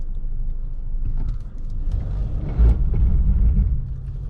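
A Mercedes GLA (2020) engine with 8-speed automatic rumbles low and steady, swelling louder about halfway through as the throttle opens, with no voices.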